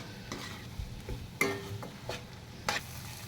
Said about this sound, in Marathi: आता आपल्याला ह्याच्यामध्ये ॲड करायचं आहे खिसून घेतलेलं पनीर. व्यवस्थित सगळं मिक्स करून घ्यायचं आपल्याला.